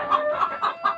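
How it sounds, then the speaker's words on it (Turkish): Village chickens cluck close by in a farmyard, four short, evenly spaced clucks within a second. "hep koy tavuğu"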